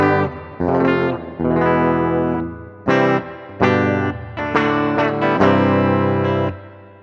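Firefly FFLP budget electric guitar played through its bridge pickup with overdrive and chorus effects, a run of loud sustained chords and notes with short gaps between phrases, alone with no talking.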